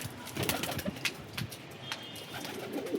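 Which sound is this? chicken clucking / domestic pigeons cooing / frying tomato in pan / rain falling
domestic pigeons cooing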